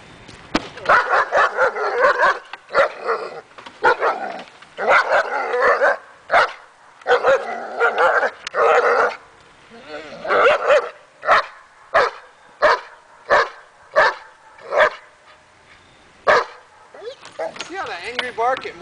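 A dog barks repeatedly during table training, sharp loud barks in irregular bursts, some quickening into rapid runs and others spaced apart, with short pauses between them.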